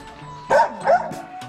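Two loud, close dog barks in quick succession, followed by a fainter yip, with a steady background hum.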